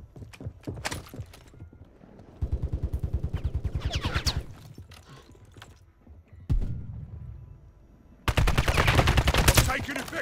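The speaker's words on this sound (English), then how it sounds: "I'm taking effective fire." Gunfire in Call of Duty on Rebirth Island, played on PS5: scattered single shots early on, then loud rapid automatic bursts in two or three sustained volleys close by, with brief quieter gaps between them.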